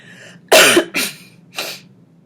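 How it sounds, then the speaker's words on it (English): Three sharp coughs in quick succession, close and loud, the first strongest, over faint background hum. "Sorry guys, I'm still dealing with a cough."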